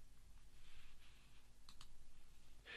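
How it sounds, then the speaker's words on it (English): A couple of quick, faint mouse clicks on a computer's Save button, soft and close against a low room hum with no talking. "And then click the Save button."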